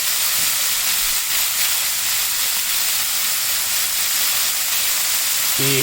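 Pork belly sizzles steadily in a hot pan, a continuous close hiss of rendering fat with faint crackles throughout.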